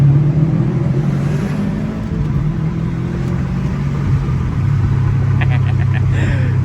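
A car fitted with an aftermarket exhaust drives along with a loud, steady low engine rumble that swells as it accelerates, heard from close range with little else over it.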